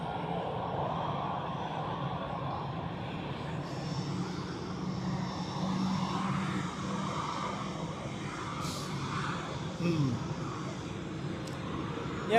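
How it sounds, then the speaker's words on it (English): An Etihad airliner taxis at Zurich airport, a low, steady engine rumble and whine heard from a distance under wind and light background noise. "I hope that this taxiing of the Etihad is not conflicting with the A330 departure"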